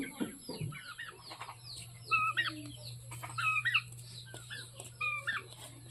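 Chickens cluck in short bursts close by, with a steady low hum underneath and a brief faint voice near the start.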